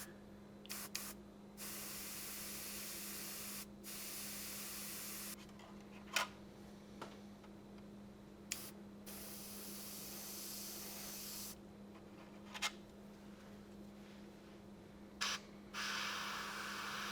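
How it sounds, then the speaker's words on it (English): An airbrush sprays paint thinned with Mr. Rapid Thinner on a P-40F Warhawk model, a soft steady hiss coming in repeated bursts separated by short pauses, with a faint constant hum beneath. "which I've loaded into the airbrush with a bit of Mr. Rapid Thinner"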